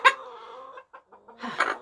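A loud broody backyard hen clucking close by, a sharp squawk at the start followed by drawn-out, wavering clucks and a rising burst at the end, with no talking.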